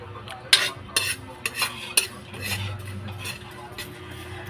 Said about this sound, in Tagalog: ito-toasted lang natin itong linga